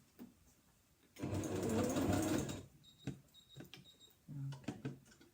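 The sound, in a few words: sewing machine stitching ends of a box bag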